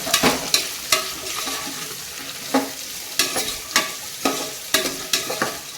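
Chillies, beans, carrots and capsicum stir-frying in a pan, a steady sizzle punctuated by regular sharp scrapes of a spatula tossing the vegetables, close and fairly loud, with no talking.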